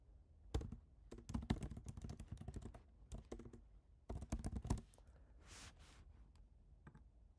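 Rapid, uneven clicking of a computer keyboard as a project name is typed into a cloud console, coming in close bursts with short pauses between them and no voices.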